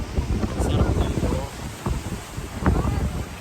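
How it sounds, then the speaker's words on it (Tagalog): Cold wind blows hard across the microphone on the shore of Lake Huron, a rough gusting rumble with people talking underneath. "Ang lamig, mahangin siya."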